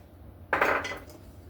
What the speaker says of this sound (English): We're going to thoroughly mix this, and then we're going to jar it.